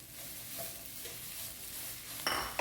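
Chopped red spinach cooks in a pan, a soft continuous sizzle with faint stirring, ending in a brighter scrape of the spoon against the metal near the end.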